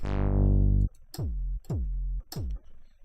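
A synthesizer plugin produces a long sustained buzzing tone, then three punchy notes that each drop quickly in pitch like a kick drum, evenly spaced and loud, with no talking.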